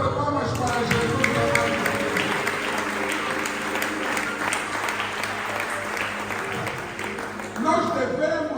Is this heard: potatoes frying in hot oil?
no